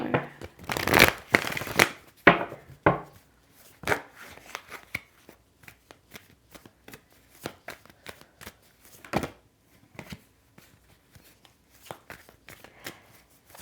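Tarot cards are shuffled and riffled in a reading setting, giving a dense burst of papery flutter at first, then a run of sharp, separate slaps and flicks as cards hit the table, close and fairly quiet.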